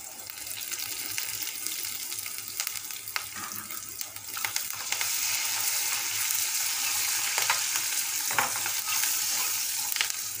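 Dried red chillies and curry leaves fry in hot oil in a pan, giving a steady, close sizzle with a few stirring scrapes. The sizzle grows louder and fuller about halfway through, with no voices.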